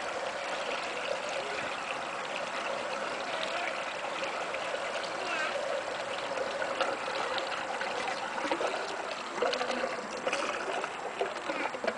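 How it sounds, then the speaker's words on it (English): Food waste pours and trickles into a home biogas digester fed from an InSinkErator waste disposal unit, a steady wet rushing flow that runs continuously, moderately close and fairly faint, with no talk over it. "So we just pour the food waste right in here."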